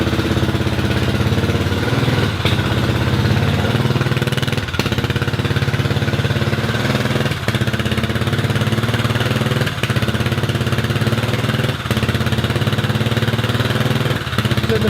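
A Kymco scooter engine runs steadily after a hard start, a loud continuous motor drone with a faint regular pulsing throughout and no talk.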